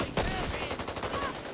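Rapid M1 rifle gunfire in the zombie shooter Back 4 Blood: a dense run of close, punchy shots with game effects layered underneath.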